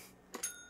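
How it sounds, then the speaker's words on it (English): A bell is struck in a retro Atari 7800 video game, two quick bright electronic dings in close succession with ringing tones that fade, heard alone and fairly faint. "There's more here if you hit the bell."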